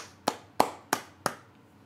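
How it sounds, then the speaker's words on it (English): A single person claps four times in a slow, even rhythm, each clap a sharp, close, fairly loud smack followed by a brief quiet gap, with no talking over it. "I'm clapping. I gotta clap like this."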